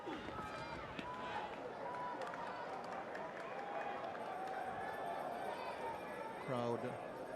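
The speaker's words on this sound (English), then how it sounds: "Crowd very much into it, almost as much as the players on the field" Broad, steady roar of a cricket crowd at a Test match during a West Indies world-record run chase of 418, sustained throughout with scattered cheers and a commentator talking over it.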